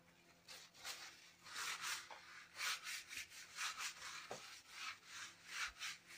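Ink is rubbed onto paper by hand for a crafting project with heat embossing and Distress Oxide inks, giving a rhythmic series of soft, close scrubbing strokes, quiet and without talk.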